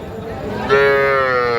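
A young heifer calf at a cattle market gives one loud, close moo that swells partway through and holds to the end.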